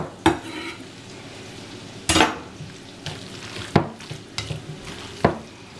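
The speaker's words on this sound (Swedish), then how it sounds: "Så då blandar vi ner allt gott det här goda." Ingredients are stirred in a frying pan over a soft sizzle, with several distinct scrapes and clinks of a utensil against the pan spaced a second or two apart.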